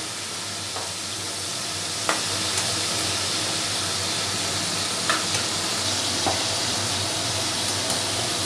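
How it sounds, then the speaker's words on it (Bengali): Small crabs fry in a pan for a Bengali crab curry, making a steady loud sizzle throughout with a few faint stirring clicks. "কাঁকড়াগুলোকে এবারে লাল করে ভেজে নিতে হবে যেন কাঁচা না থাকে ভালো করে লাল করে ভাজতে হবে"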